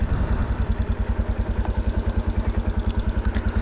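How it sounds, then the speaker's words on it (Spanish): A motorcycle engine idles close by at a Puerto Vallarta beach, its steady low chugging pulse repeating evenly and loudly throughout with a faint clatter on top. "Déjame apago la moto"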